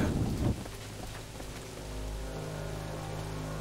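In Assassin's Creed 3, a game thunderstorm brings a loud crack of thunder at the start, followed by steady rain and a low rumbling wash that continues throughout without voices.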